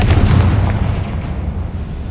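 A Confringo spell explosion in Hogwarts Legacy, a loud, heavy booming blast that rumbles out and slowly fades over about two seconds, with no talking.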